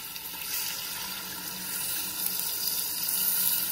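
Water being poured into a pan of frying pork ribs for a Portuguese bean stew, a steady hissing wash of liquid and sizzle that holds throughout and swells slightly toward the end, with no talk.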